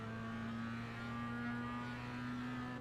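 Mazda MX-5 engine in the iRacing sim at full throttle in third gear, a steady, fairly quiet buzzing drone with sustained harmonics that climb slightly in pitch, with no talking.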